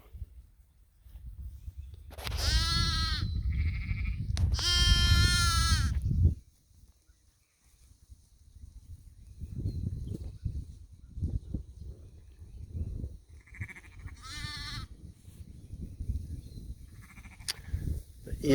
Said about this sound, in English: I could stay out here all day with these sheep.